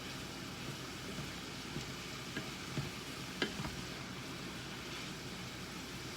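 Lobster lo mein simmering and frying in a single pan, giving a steady close sizzle and bubbling hiss with a few faint clinks from stirring, and no talking.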